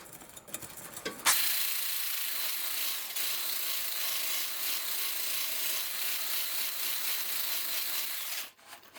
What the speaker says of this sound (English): Scrape down the edges.